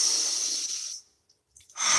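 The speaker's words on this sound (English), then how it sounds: "Breathe." A slow, audible breath in and out, a long airy hiss close by that fades into a brief pause before the next inhale begins, with no talking.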